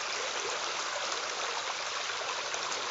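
Creek water runs steadily at a spot where the bed has been dug out, a continuous close, bright rushing burble with no pauses and no voices.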